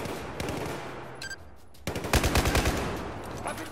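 Rapid automatic gunfire in Battlefield 4: a short burst early, a brief lull, then a loud sustained stream of closely spaced shots, with game beeps in between.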